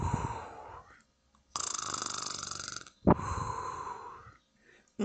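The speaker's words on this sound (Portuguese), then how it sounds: "O lobo resolveu dar uma cochilada e começou a roncar." The wolf in a Little Red Riding Hood story naps and snores loudly and close by, with two long rasping snore breaths separated by a sharp snort, a cartoonish, exaggerated sound effect.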